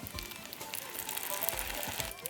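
Crispy noodles sizzle and crackle steadily in a hot skillet, a fine, even frying hiss with small pops, close and fairly quiet.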